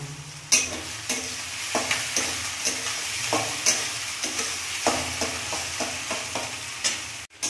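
Chopped onions fry in a pan with a pinch of salt, a close, constant sizzle punctuated by a regular series of scraping stirs, roughly two per second, with no voices.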